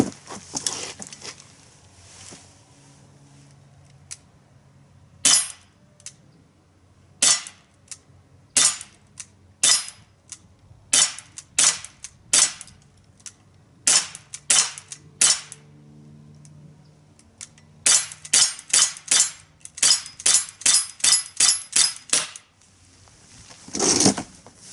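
Sharp, snappy shots from an Umarex 40 XP CO2 BB air pistol, a few spaced single pops early on, then a rapid string of close shots near the end, with faint handling clicks between them.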